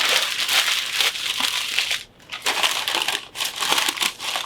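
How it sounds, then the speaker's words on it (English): Newspaper is crushed and crumpled by hand for a papier-mâché pumpkin, a close, loud crackling that runs almost nonstop with two brief pauses. "So I get one more piece of newspaper and put it inside that bag after I crumple it up."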